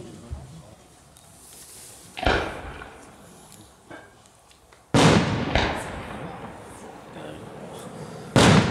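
A 100 mm strobe (Blinker) firework shell, number 51, bursts outdoors in several loud booms spread across the clip, with crackling strobe bursts and a sharp final bang following a quieter opening.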